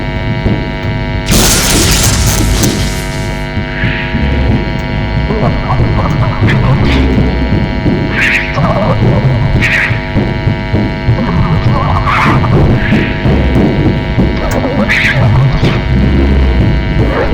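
Inside the video game Five Nights at Freddy's Sister Location, an electric zap lands with a loud buzzing crash over a heavy mains-like hum, followed by throbbing electrical buzz and scattered crackles.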